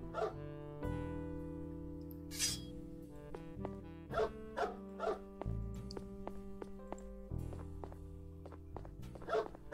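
A dog in the video game BeTrapped! barks several times in short spaced bursts, set over steady game music with tonal chords and thumps.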